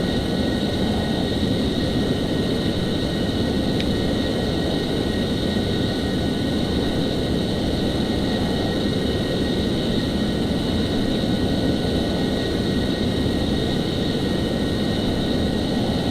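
F-14 jet in Flight Simulator X gives a steady, loud engine roar and airflow hiss with a constant whine on top, unbroken throughout and with no voices.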